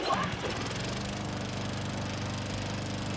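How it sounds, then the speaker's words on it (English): In Dead Rising 2, a lawnmower engine fitted with blades onto a helmet runs with a loud, steady buzzing drone that holds for the whole stretch, with no pauses. "Put the lawnmower engine and the blades on the helmet."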